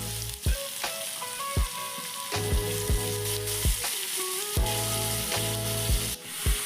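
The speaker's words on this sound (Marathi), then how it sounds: "परतून घ्यायचे कांद्याला." Chopped onions sauté in a pan for a spiny gourd (kantola) vegetable dish, a steady close sizzle broken by regular clacking strokes of a spoon stirring against the pan.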